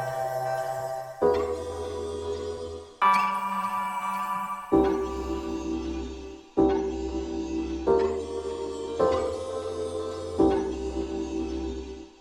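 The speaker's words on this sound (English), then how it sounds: "there's this like kind of tinkly glass-like texture." Tinkly, glass-like synth texture from a Dawesome Myth patch, with bright shimmering tones over shifting low drones, changing in blocks about every second or two, each change opening with a soft swell; moderately quiet, no voices.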